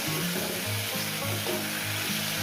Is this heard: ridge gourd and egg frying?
yes